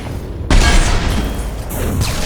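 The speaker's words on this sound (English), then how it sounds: "Concussive shot ready." A single heavy concussive blast from a Mass Effect 2 biotic ability thumps in close and loud, followed by a sustained rumbling wash of noise that fades only slightly.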